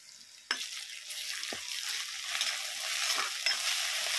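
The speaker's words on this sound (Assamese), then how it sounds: "আদা নহৰুকণ দি লওঁ তেলতে" Ginger and garlic hit hot oil with a sudden sizzle that swells into a continuous bright frying hiss, with a few stirring clicks, close up and with no talk.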